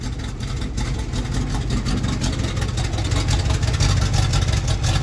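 Cold start of a GAZ-53 truck engine fitted with a new carburetor: a steady, close, rough mid-pitched running rumble that holds at a constant level throughout, with no talk.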